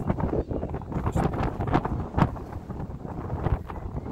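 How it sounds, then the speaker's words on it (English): Gusts of wind buffet the microphone in uneven rumbling bursts, low and blustery, rising and falling throughout. "It's very windy."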